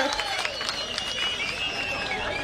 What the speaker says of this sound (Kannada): ದಯವಿಟ್ಟು ಜೋರಾದ ಚಪ್ಪಾಳೆಯೊಂದಿಗೆ ಅವರಿಗೆ